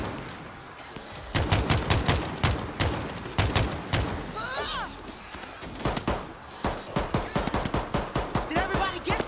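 An automated turret in the World War Z video game fires rapid bursts of loud, close gunshots in uneven volleys that tighten into a fast stream near the end, with a voice briefly over the shooting.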